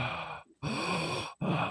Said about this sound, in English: I got the heavy breather going